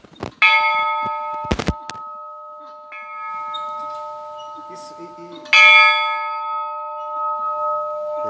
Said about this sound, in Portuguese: Esse sino ele é original também da época. Pode tocar aí.